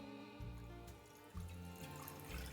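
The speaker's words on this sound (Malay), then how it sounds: "Tuangkan aja air kita." Water pours into a cooking pot before meat is boiled, a faint, continuous splashing trickle with a few gurgling surges, quiet and close, with no talking.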